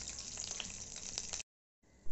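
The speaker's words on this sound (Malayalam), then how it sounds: "ആ ഇപ്പോൾ നമ്മൾ അണ്ടിപ്പരിപ്പ് ആദ്യം ഇടുന്നു." Cashews sizzle in hot ghee in a pan for sago payasam, a crackling, bubbling fry close up that cuts to silence partway through before a faint return.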